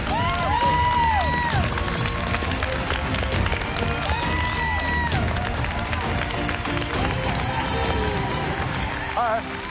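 Studio audience on a cooking competition finale applauding and cheering for the contestants, a continuous dense wash of clapping and shouts with music playing underneath.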